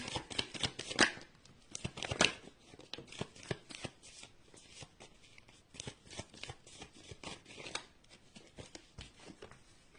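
Tarot cards being shuffled by hand, a dense run of crisp riffling flutters and soft slaps repeating close up throughout, with no talking.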